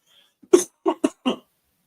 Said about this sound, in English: I'm going to cough.